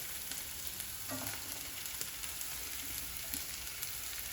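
Ginger, garlic, onions and mixed vegetables stir-frying in hot oil for spring roll filling, a soft, even sizzle with a few faint stirring knocks.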